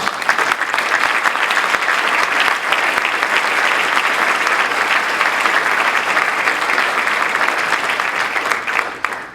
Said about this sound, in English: So guys, I'd like to give a round of applause to these 5 pharmacy students.